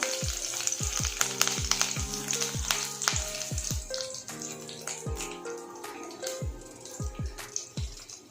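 Curry leaves and cumin seeds sizzle in hot oil for a stuffed brinjal curry, a crackling hiss with a run of sharp pops and clinks as a spoon moves through the pan, close up and without voices.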